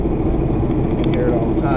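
Kawasaki Cavalier with a spun transmission bearing in fifth gear, giving a steady, loud mechanical chatter over a dense engine drone that runs without a break, close to the listener.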